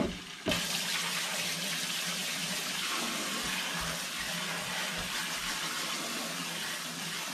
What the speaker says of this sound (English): first I'm gonna fill up my right side of my sink.